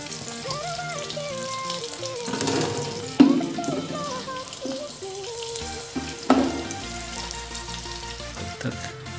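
Masala spices frying in a pan for a broccoli and egg sabzi give a steady sizzle, with a few louder bursts around the middle and a faint musical tone running underneath.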